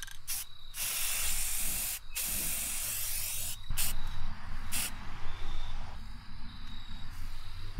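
A spray can lays a paint coat onto custom glass for a Lian Li O11 Dynamic PC case. Loud, close hissing bursts are separated by brief pauses, then give way to a longer continuous spray.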